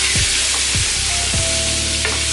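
Fried cabbage with sausage and smoked paprika being stirred in a hot pan: a steady loud sizzle with a few scraping stirs of the spoon.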